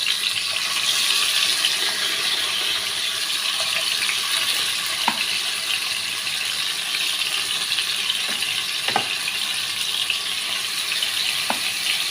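A dense, constant sizzle of chicken frying in oil in a pan fills the whole stretch, with a few faint clicks from the pan.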